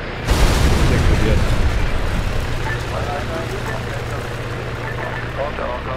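A helicopter blows up in the ARMA 3 video game: one loud, close boom hits near the start, then a rumbling roar fades over several seconds.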